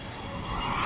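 An Emirates airliner approaches El Prat airport, its engines a broad, steady roar that swells slightly louder over a brief moment, with no voices.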